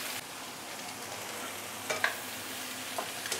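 Vegetables stir-frying in a pan for fried mee sua, with a steady soft sizzle, a few light scrapes and clinks of a utensil against the pan, close and fairly quiet, with no talking.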